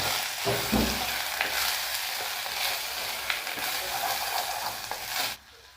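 Pointed gourd fries with ginger garlic paste in a pan, a loud, continuous sizzle with occasional stirring scrapes that cuts off abruptly at the end.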